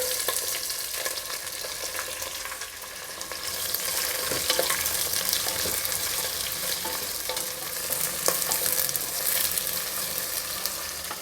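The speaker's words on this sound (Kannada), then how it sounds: "ಕರಿಬೇವಿನ ಸೊಪ್ಪು, 2 ದೊಡ್ಡ ಸೈಜಿನ ಈರುಳ್ಳಿನ ಉದ್ದುದ್ದಕ್ಕೆ ಹಚ್ಚಿಟ್ಕೊಂಡು ಹಾಕ್ತಾಯಿದ್ದೀನಿ" Sliced onions and curry leaves frying in a pan for a pulao, a steady close sizzle with occasional stirring clicks and no voices.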